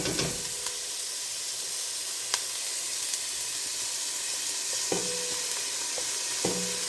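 Garlic and onion hit a hot oiled pan for beef chili, giving a soft, steady sizzle with occasional sharper crackles and stirring clicks, fairly quiet and with no talking.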